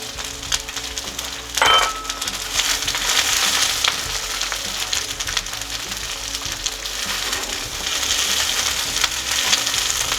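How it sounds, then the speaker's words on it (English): Coarsely cut onions fry in red-hot, spitting oil, giving a steady crackling sizzle with scattered sharp pops throughout and one louder burst early on. "Let's get those onions in and start them softening and browning off."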